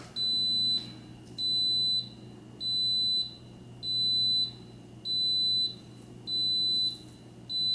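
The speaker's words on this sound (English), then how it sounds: "So you just heard the beep" An Instant Pot Duo Nova pressure cooker sounds a run of seven evenly spaced, loud electronic beeps in a steady on-off rhythm, with a low hum underneath.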